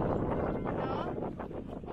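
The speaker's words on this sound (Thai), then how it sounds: "วันนี้อากาศดีแต่ลมแรง" Strong wind gusting by a blue river in the Swiss baroque town of Solothurn, a loud rumbling buffet against the microphone that stays constant and dips slightly toward the end.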